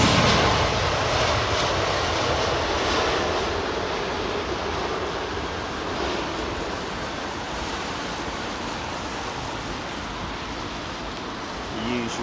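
A British Airways airliner touches down on Heathrow runway 27R, its engines a loud, steady broadband roar that holds throughout with a slight easing toward the end.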